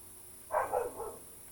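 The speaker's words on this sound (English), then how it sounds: "They're out there barking at cattle." Dogs outdoors bark at cattle, a short burst of two or three muffled barks heard from a distance over a steady background hum.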